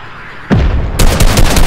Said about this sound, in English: Do you have any rockets in your rocket launcher? Yeah, 6. Okay, just use it.